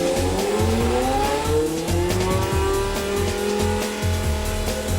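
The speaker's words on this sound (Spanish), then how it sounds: "Los motores modernos de Fórmula 1 son modelos V10 de 3 litros" A Formula 1 race car with a 3-litre V10 engine screams past at high revs, its loud, continuous whine rising and shifting in pitch alongside a pulsing low drone.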